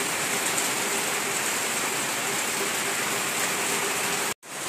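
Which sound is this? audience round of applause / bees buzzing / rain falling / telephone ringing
rain falling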